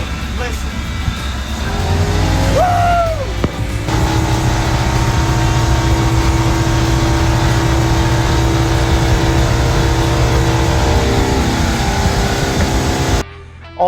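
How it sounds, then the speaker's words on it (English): A 1969 Seaflite motorboat engine roars steadily at high revs as the boat speeds across Lake Havasu, loud and continuous for most of the stretch, with brief voices near the start. "The boat runs, and we are actually on the lake, doing all of like maybe 20 miles an hour."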